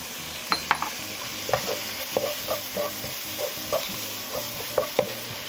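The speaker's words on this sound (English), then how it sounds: "we're gonna cook this until the pork is totally cooked" Ground pork frying with pepper in a pan, with steady sizzling under repeated scraping and stirring strokes, several sharp utensil clicks against the pan, close and fairly quiet.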